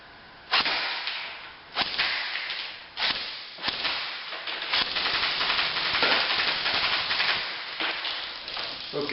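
Airsoft gun firing 20 gram BBs into a homemade target box: a series of sharp, loud cracking snaps at irregular intervals, each followed by a rattling impact, with some faint background noise in between.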